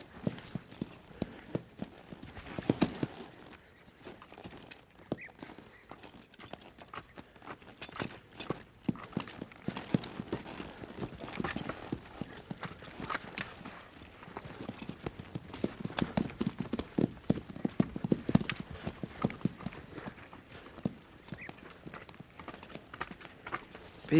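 A horse's hooves clip-clop steadily as it moves off at a walk, irregular thuds of moderate loudness with some rustling and an occasional faint snort, and no talk.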